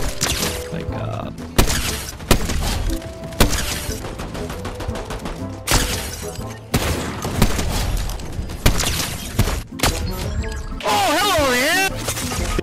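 Fortnite gunfire, with repeated sharp shots and bursts cracking in irregular clusters, loud and close, mixed with thuds and game effects and occasional talk.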